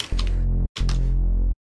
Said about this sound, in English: So you can hear that it's mainly a Reese happening at that point.